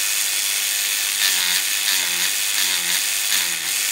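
A Swashdrive Gen 8 massage device with a 3.5 mm stroke runs on its softer setting, giving a loud, continuous mechanical whir with a rapid pulsing rattle and a slight rhythmic swell every half second or so.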